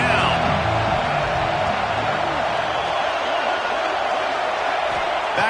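Stadium crowd in an American football video game, a broad steady roar of cheering that runs loud and unbroken throughout, with a brief lull in texture partway through and no clear talk on top.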